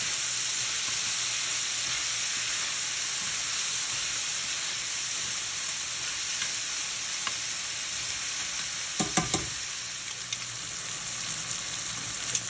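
Onions, peppers, tomatoes and cilantro cook in a pan for a mackerel coconut sauce, a steady soft sizzle with faint hiss, broken by a brief clatter of stirring near the end.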